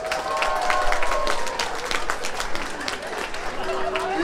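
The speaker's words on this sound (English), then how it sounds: "Make a round of applause if you're in love." Audience applause fills a comedy club, steady and dense clapping mixed with scattered whoops and chatter for about four seconds.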